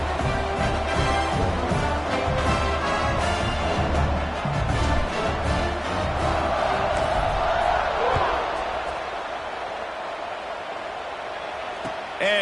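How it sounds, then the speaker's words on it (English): A stadium crowd in a college football video game, West Virginia versus Ohio State, roars in a broad sustained wash behind a commentator's voice, fading somewhat near the end. "this crowd now ready to get behind them"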